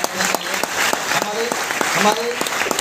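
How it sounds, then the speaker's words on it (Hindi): An audience at a Mumbai function claps steadily, dense continuous applause with sharp individual claps standing out, loud and close, with a voice faintly audible underneath. "मैं चाहूँगा दिल से आप लोग ताली बजाइए"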